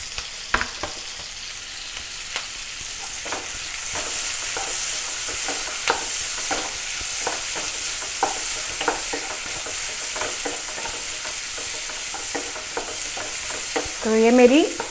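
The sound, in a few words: stir-frying onion and capsicum on high flame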